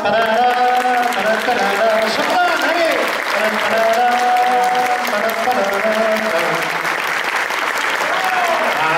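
Dense, loud audience applause fills a theatre continuously, with many hands clapping at once and crowd voices rising through it.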